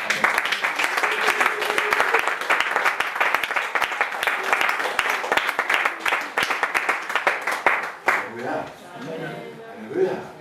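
Church congregation clapping during a worship service, dense applause for about eight seconds, then fading into voices speaking.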